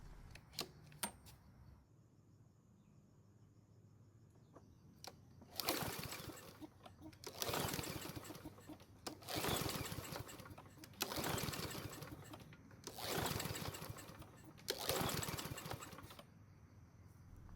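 Five rapid bursts of a Snapper lawn mower engine with a stuck engine being pull-started, each a few seconds of ragged sputtering, separated by quieter pauses, with faint clicks before. It fails to start.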